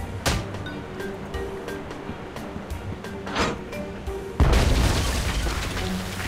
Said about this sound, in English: Nothing like a deafening cannon discharge to clear the mind.